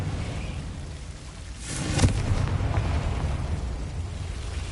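A Confringo fire spell explodes in the Hogwarts Legacy game, a sudden rumbling blast rising over a rushing, noisy backdrop and then rolling on.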